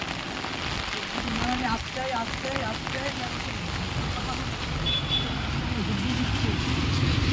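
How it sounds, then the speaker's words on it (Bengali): Steady rain falls over a hillside during a cloudy, misty spell, a constant broadband hiss throughout with a brief vehicle-like rumble and faint voices partly beneath it. "এখানে এত বৃষ্টি হচ্ছে, পাহাড়টা কিছু বোঝা যাচ্ছে না এখন।"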